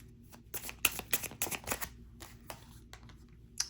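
Tarot cards are shuffled by hand in a quick run of crisp, riffling snaps and soft slides up close, then a few slower flicks as single cards are drawn, with no talking.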